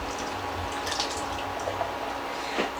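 Liquid sauce of vinegar, ketchup and water being poured onto meat for Hungarian goulash, a steady trickling, dripping pour heard up close with no talking.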